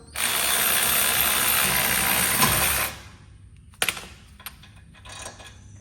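A ratchet working on brake caliper bolts on a vehicle, a loud steady ratcheting whir close by for about three seconds, followed by a few sharp metallic clicks and clinks.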